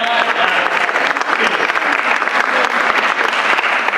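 Steady, dense applause from a large audience at a Sunday church service, many hands clapping at once, loud and sustained throughout with no pauses.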